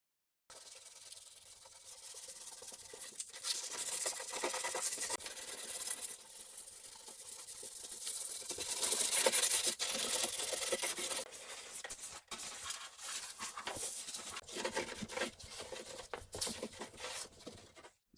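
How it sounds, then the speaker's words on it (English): A rust-converted rear body panel on a BMW E36 is lightly sanded by hand, giving a long, steady rubbing and scratching hiss that rises and falls in strokes, close and moderately loud, with no voices. "Now I'm gonna lightly sand it down and begin adding filler to the panel."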